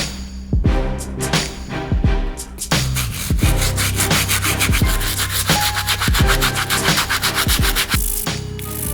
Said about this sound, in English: we're going to be using a stiff bristle brush to clean the soles.